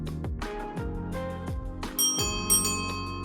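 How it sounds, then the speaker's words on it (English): A ding-dong bicycle bell mounted on an Urban Arrow family cargo bike rings several times in quick succession, each strike clear and close with a bright ringing decay and no talking. "Mount the ding-dong bell so that the client can press the bell lever with ease."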